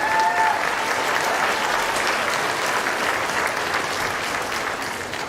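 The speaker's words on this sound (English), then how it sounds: "So let's applaud each one because that's a big achievement." Steady applause from an audience at an elementary school awards ceremony, a dense patter of many hands clapping continuously and fairly close, slowly tapering off.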